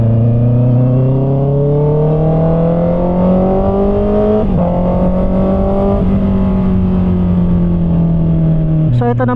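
Motorcycle ride at night through dim streets, recorded on an Insta360 X5 camera, the engine droning steadily with rising pitch as it accelerates, shifting gears twice, loud and close with wind rush.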